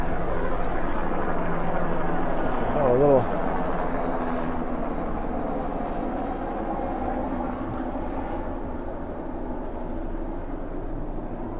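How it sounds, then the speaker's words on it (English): A helicopter drones overhead in the Middle Fork Snoqualmie valley, a steady moderate rumble that stays continuous while people talk over it. "we suppose the helicopter's doing that"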